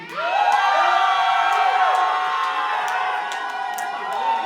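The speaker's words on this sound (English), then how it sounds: "If y'all think the House of Joy won, scream." A conference crowd in New Orleans screams and cheers loudly, a dense roar of whoops and high-pitched shouts that holds steady for several seconds.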